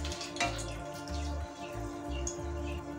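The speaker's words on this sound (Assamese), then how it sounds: "সেইখিনি কেইছেকেণ্ডমান ভাজি ল'ম।" Whole spices, including bay leaves and a dried red chilli, crackle and sizzle in hot ghee, with scattered pops and hissing over a steady low hum, close up and fairly quiet.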